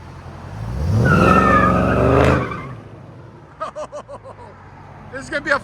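A straight-piped Chrysler 300 with a 6.4L HEMI swap and AWD roars loudly as it pulls away, the engine note rising and falling over about two seconds before fading, followed by brief chatter.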